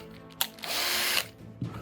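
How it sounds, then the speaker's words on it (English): A Bosch hand drill bores a hole, with a short whir, a sustained high grinding spin lasting about half a second, then a brief restart near the end, all close and moderately loud. "I use my Bosch hand drill,"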